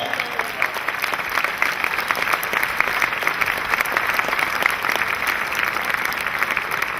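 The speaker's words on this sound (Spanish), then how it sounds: "¿Cuánto le dan fuerte aplauso al Señor?" A united church service congregation breaks into loud, sustained applause for the Lord, a thick, steady roar of many hands clapping at close range throughout.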